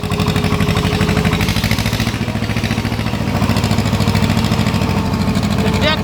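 Swaraj tractor engine running steadily and loud while the vehicle travels along a farm track, a continuous low mechanical rumble with rapid pulsing throughout, with faint voices mixed in.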